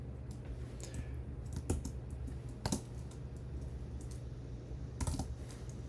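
Computer keyboard typing while setting up a C# .NET project: fairly quiet, irregular clicking keystrokes with a few louder key taps, alone over a steady low hum.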